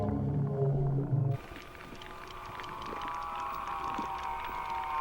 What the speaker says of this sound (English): that eerie sound that you're hearing, that's what we recorded earlier, that's his calls, but we're playing them right out into the ocean with a massive speaker